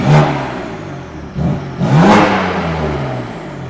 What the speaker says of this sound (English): One reason to pick the BMW is I will say I think it sounds better.